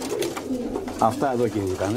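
Pigeons cooing in Kozani just before nightfall, soft throaty coos repeating close by while someone speaks over them.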